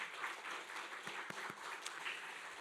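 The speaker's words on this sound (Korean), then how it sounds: "박수 한번." A church congregation at a Korean Presbyterian service in Hawaii applauds in welcome, with soft, fairly distant clapping and a few sharper individual claps standing out over a couple of seconds.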